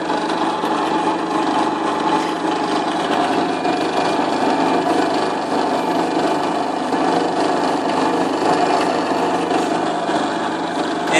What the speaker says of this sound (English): And I'm going to drill my two holes.